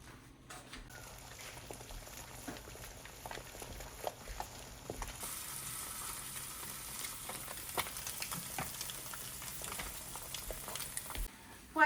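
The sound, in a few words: eggs frying in a pan with salt and pepper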